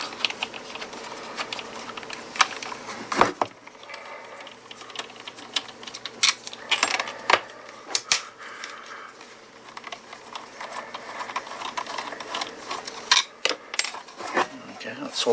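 Small screws being worked out of a power tool NiCd battery pack's plastic casing during a teardown: irregular close clicks, scrapes and light taps over a quiet background, with occasional speech.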